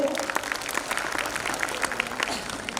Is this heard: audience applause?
yes